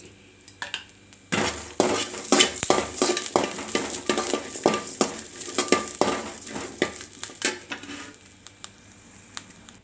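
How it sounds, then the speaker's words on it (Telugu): Cumin seeds fry in a pan for tamarind-leaf chutney, a steady sizzle under repeated sharp scrapes and clinks of a spoon stirring against the metal pan, close and fairly loud. "ఇందులోనే కొంచెం జీలకర్ర వేసి వేయించుకోవాలి"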